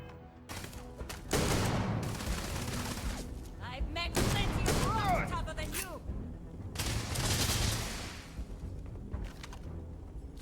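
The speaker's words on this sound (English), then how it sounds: "Don't know how 4 shots in a double barrel works, but I'm glad we have it." Double-barrel shotgun blasts in the sci-fi video game Starfield, several loud booming shots in quick bursts separated by short gaps, with a voice talking faintly between them.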